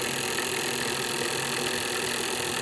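A small electric motor in a motor generator build runs at about 12.5 volts with a steady, even hum and a light rattle, close and continuous without a break.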